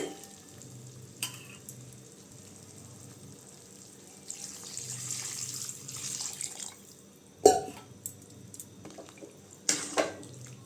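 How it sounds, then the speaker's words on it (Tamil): Water is poured into a pan of country chicken gravy on the stove, with steady sizzling and splashing, a few sharp clinks and stirring scrapes, heard close up with no talking. "தண்ணி சேர்த்துக்கலாங்க தேவையான அளவு"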